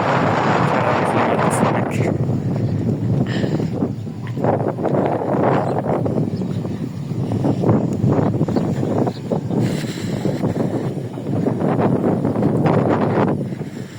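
Wind gusting over open village fields and dirt footpaths before rain clouds, a steady broadband rush that stays loud throughout, buffeting the microphone.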